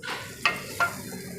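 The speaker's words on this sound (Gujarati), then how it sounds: "આ વઘાર આપણે ડાયરેક્ટ આમાં રેડી દઈશું" Hot tempering is poured straight into dal for Rajasthani dal baati. Two sharp sizzling bursts come close together over a soft, steady kitchen background, with no talk.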